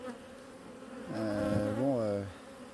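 Black honeybees foraging at an apiary on a mild late-October day, a close buzzing drone that swells louder and wavers in pitch as a bee passes near, over a faint steady hum of others.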